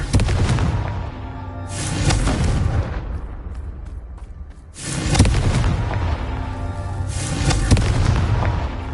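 Confringo, a fire-blast spell in the Hogwarts Legacy video game, goes off in three loud booming explosive bursts with rumbling tails, separated by brief quieter gaps.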